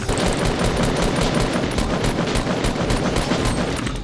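Rapid automatic gunfire in a first-person shooter game, a loud dense burst of shots rattling continuously throughout.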